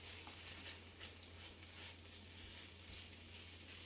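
Vermicelli being stirred together with a fish filling of chopped shrimp in a frying pan, a steady soft sizzle with faint scraping and patter running through, fairly quiet and continuous, with a low hum underneath.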